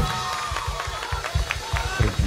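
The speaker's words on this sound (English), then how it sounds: "Everyone give him a big round of applause for tonight." A crowd at a college funk show cheers and claps, with cheers and scattered claps rising over a low, rhythmic thump and a busy, echoing room.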